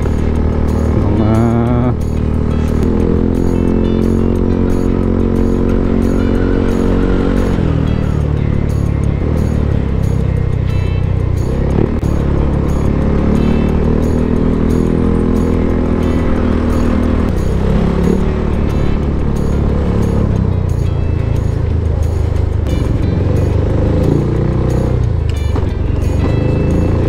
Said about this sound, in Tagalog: hectic traffic